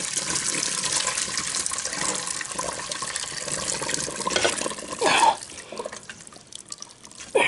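Liquid poured into a pot of Dublin coddle, a continuous close splashing pour with a brief louder gush near the end.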